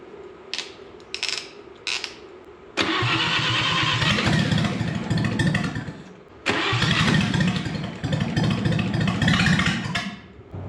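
A small engine that has just started runs roughly while the choke is worked, its note surging and dropping in uneven bursts with brief stumbles between, loud and close, with no talk.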